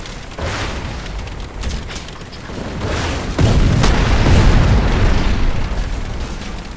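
In the video game Crysis, a rocket strikes a helicopter: rumbling combat noise builds, then a heavy booming explosion lands about halfway through and rolls on loudly to the end.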